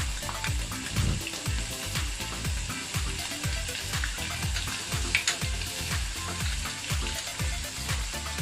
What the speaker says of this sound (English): After few seconds, add chopped onions and stir it well.